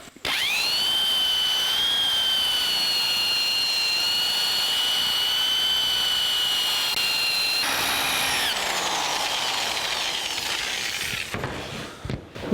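Two-speed electric polisher buffing the body tub of a 1982 Jeep CJ7 with a sheepskin pad, a loud steady high whine that drops in pitch as the speed changes, then winds down near the end.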